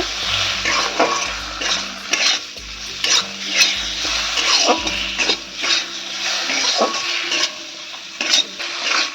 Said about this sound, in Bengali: আর কাঁচা লঙ্কা দিয়ে দেবো। তাহলে অল্প পরিমাণ নুন দেব, দিয়ে আমি হালকা করে ভেজে নেব।